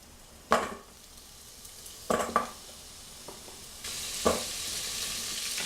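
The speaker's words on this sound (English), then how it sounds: "add my vegetables to the pressure cooker while it's on saute mode" Vegetables sauté in an electric pressure cooker for white chicken chili, a soft sizzle under occasional clinks and scrapes of a stirring utensil, with the frying hiss swelling louder near the end.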